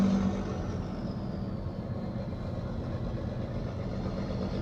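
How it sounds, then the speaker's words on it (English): A diesel engine idles nearby, a steady low raspy rumble holding even throughout with no talk over it. "Listen to that diesel engine go."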